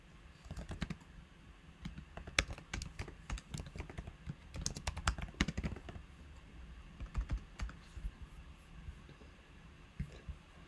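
Code is typed on a computer keyboard, with quick irregular bursts of close, soft key clicks and pauses between runs, no voices.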